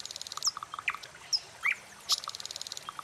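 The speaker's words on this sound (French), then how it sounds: "Écoute le gazouillis des oiseaux." Birds chirp in a forest, with quick rapid trills and sharp single tweets in short bursts, clear and fairly close with no talk.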